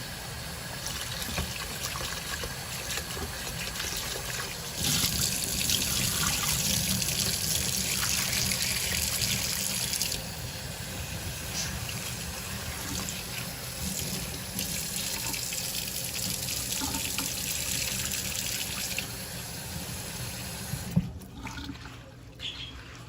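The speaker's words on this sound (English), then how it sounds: "now what we're going to do is that we're going to wash our cornmeal" Tap water runs steadily into a sink while cornmeal is washed for a Haitian corn grits and beans dish, a continuous close splashing flow that swells and eases, then cuts off near the end with a few clinks.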